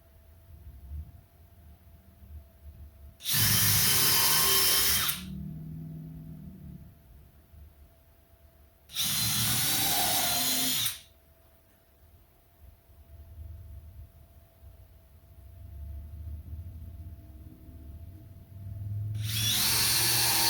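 A power drill bores into wood while building DIY tire cribs, running in three loud bursts of about two seconds each, separated by quieter pauses.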